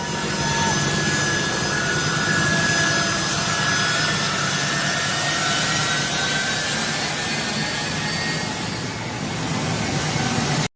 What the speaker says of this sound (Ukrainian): Вони наздоганяють американський військовий літак, а деякі відчайдухи чіпляються за нього.